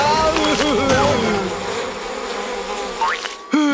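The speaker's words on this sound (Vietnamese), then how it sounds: "Lũ ong này ở đâu mà ra vậy?" A swarm of cartoon bees in a BabyBus animated children's show buzzes in a loud, continuous drone, with wavering tones and a few sliding cartoon sound effects on top.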